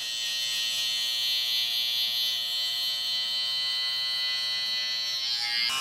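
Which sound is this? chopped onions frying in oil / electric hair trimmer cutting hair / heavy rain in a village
electric hair trimmer cutting hair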